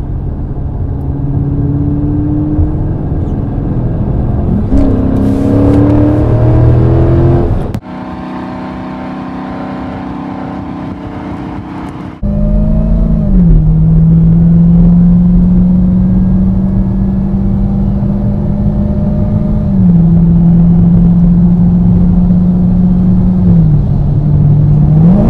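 A 2019 Dodge Charger Scat Pack from SRT runs through repeated rising revs and gear changes, its loud close-up engine note climbing, dropping sharply, then settling into a sustained drone with further surges.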